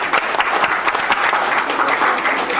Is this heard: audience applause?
yes